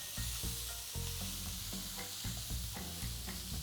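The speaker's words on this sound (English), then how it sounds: "the garlic is starting to get browned a little bit, and the vegetables are starting to brown up really nice" Garlic and vegetables sizzling as they are stir-fried on a thermostatically controlled griddle heated to 450 degrees, with a steady hiss and repeated scraping and tossing of a utensil, close and continuous.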